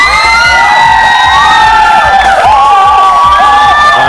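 A studio audience at a Vietnamese dating game show cheers wildly for contestant number 1, with loud, sustained screaming, whooping and shrill high voices in an unbroken, dense roar.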